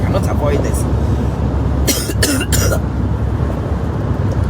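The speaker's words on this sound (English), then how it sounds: "Yeah, coughing." Several harsh coughs come in quick succession from a nearby person, loud over a constant rumbling background.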